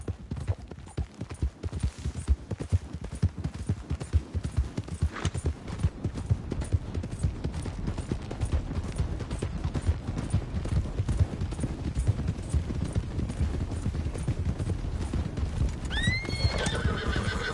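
Horses gallop with rapid, continuous hoofbeats in Red Dead Redemption 2, loud and close throughout, ending with a sharp neigh near the end.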